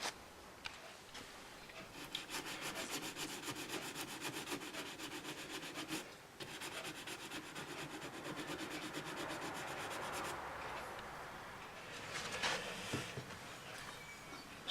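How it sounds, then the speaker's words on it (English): Worn sandpaper is lightly rubbed over the bonnet of a Gauge 1 Class 08 model locomotive. A faint, continuous scratchy rasping with brief pauses between strokes, heard alone. "the sandpaper, which is all worn out, has smoothed it to perfection"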